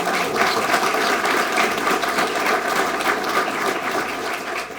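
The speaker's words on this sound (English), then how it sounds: "Let's give the state a round of applause" A crowd at a ceremonial press conference for the Swope Health Village memorandum of understanding applauds steadily and fairly loudly, a dense continuous wash of clapping with no voices over it.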